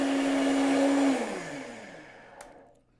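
An immersion blender whirs steadily while blending a buttermilk Caesar salad dressing, then cuts off after about a second and winds down into quiet with a faint tap near the end.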